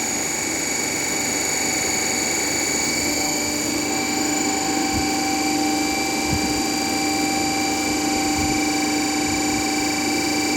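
A DC shunt generator runs steadily at 1500 RPM in a lab setup, giving a loud, continuous electrical hum and whine with a constant machine drone. A few faint low thumps break through, and no one talks.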